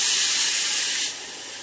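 Milk poured into a hot pan of frying fish sizzles with a loud, steady hiss that eases slightly toward the end, close and alone with no talk.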